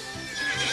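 A newly arrived mare that has run loose from an open stable whinnies once, a brief rising neigh that is fairly close and loud, with no talk over it.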